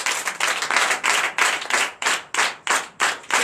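A church congregation at a night deliverance and prophecy service claps in rhythmic bursts. The sharp, loud hand claps come in regular pulses for a few seconds, with no speech.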